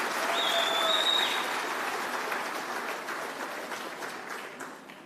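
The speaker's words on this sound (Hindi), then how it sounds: "जब मैं बोल रहा था सब ताली बजा रहे थे" Steady applause fills a political rally crowd, dense and sustained, with a faint whistle near the start, then slowly tapering over several seconds.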